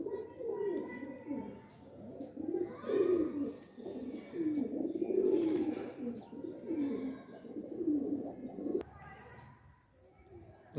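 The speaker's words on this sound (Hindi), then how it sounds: "लो जी नवे कबूतर बाहर निकले" Pigeons in a loft, continuous throaty cooing close by, thick and overlapping, with a brief flutter of wings near the end as birds take off, someone talking quietly at times.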